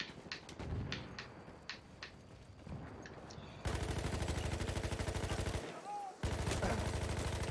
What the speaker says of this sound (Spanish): ¿Cuántos tiros le he tenido que dar a ese hombre para que se muera?